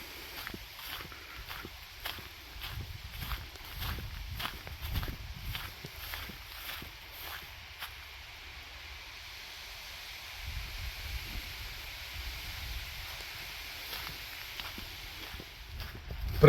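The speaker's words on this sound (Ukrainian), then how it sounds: "Шум вітру в очереті." A steady breezy rustle of wind through dry reeds, soft and continuous, with some faint crunching footsteps early on, on the Gendarmstien trail in Denmark.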